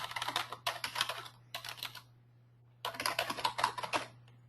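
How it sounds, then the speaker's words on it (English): Fingers type a customer name on a computer keyboard in rapid bursts of close, crisp key clicks, separated by short pauses, over a steady low electrical hum. "just start typing the customer's name."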